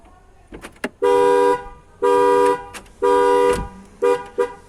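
A Ford Focus alarm sounds three long, loud car horn blasts in a steady rhythm, ending with two shorter honks, with faint clicks between them, close by.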